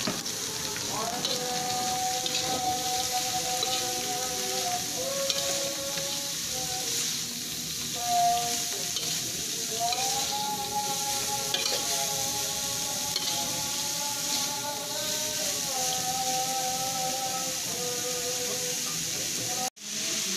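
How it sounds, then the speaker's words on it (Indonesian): Shredded young papaya stir-fries in a pan for a Javanese oseng dish, a steady close sizzle and hiss running throughout with faint stirring scrapes, no voices. "kemudian kita masukkan pepaya mudanya yang sudah dirajang ya"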